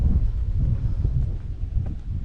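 Wind buffets steadily outdoors near the sea by a church, a continuous low rumbling roar with gusty swells that dominate the whole stretch, with no voices over it.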